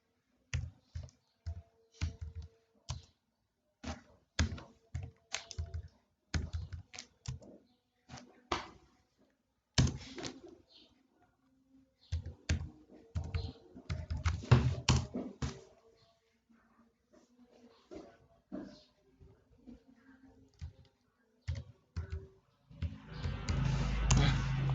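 Numbers are typed into an Excel spreadsheet on a computer keyboard, with close, crisp key clicks in irregular bursts and pauses, ending in a longer rustle.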